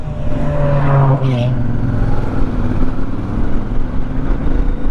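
A jeep drives along a rain-damaged, potholed mountain road toward Baguio, its engine a steady close rumble throughout with road noise, while voices talk over it.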